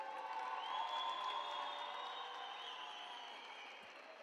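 A large crowd at an esports event, a Dota 2 final, applauds and cheers steadily, a dense roar of clapping with scattered whoops that slowly fades a little.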